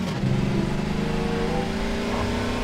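A Jeep engine in Garry's Mod, droning steadily with a low, buzzing tone as it drives, loud and close with no talk over it.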